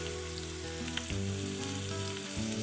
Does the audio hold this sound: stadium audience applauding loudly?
no